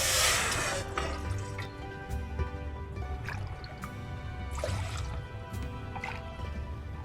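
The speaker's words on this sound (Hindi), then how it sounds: "तो यहाँ हम ले रहे हैं 3 कप पानी।" Water for Kashmiri pink tea is poured into a pot, producing a close, steady splashing and dribbling with a few stronger splashes along the way and no talking.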